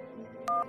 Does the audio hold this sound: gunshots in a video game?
no